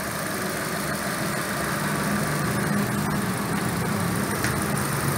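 A 2010 Chevrolet Cruze 1.8L engine idles with an HHO fuel saver fitted, a close, steady, smooth mid-pitched hum with no revving or talking.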